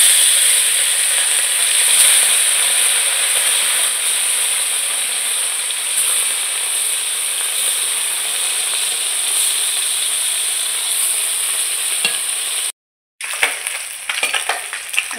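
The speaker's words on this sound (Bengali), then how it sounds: "এদিকে আমি কড়াইতে মাছ ভাজার জন্য তেল গরম করে নিয়েছি। এবার মাছগুলো আমি দিয়ে দেব।" Fish sizzles and spits in hot oil in a wok (kadai) for a pond-fish curry, a steady loud frying hiss that runs almost unbroken before a brief drop to silence and faint clatters.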